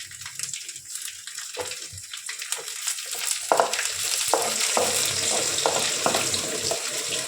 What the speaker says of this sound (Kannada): ಬೆಳ್ಳುಳ್ಳಿ ಹಾಕ್ತೀನಿ